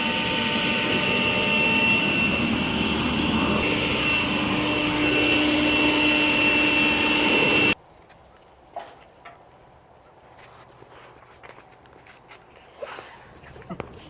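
A small air blower cleans a stripped-down Yerf Dog 3020 go-kart frame with a loud, steady, close whooshing roar that cuts off abruptly halfway, followed by quiet room noise and faint knocks.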